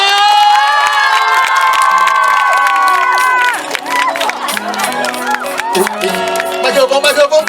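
Crowd at a seaside outdoor music festival in Qijin cheers and applauds to welcome a singer, loud shouts and clapping rising under amplified music and an announcer's voice.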